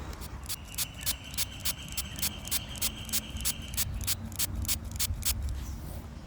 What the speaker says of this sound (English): I'm just going to spray this with water.